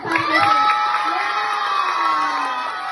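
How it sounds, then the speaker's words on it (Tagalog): Children and adults at an elementary school gathering in Lopez, Quezon clap loudly and shout and whoop together, a dense, continuous burst of cheering that stays strong throughout. "isa pang malakas na palakpak na may sigawan"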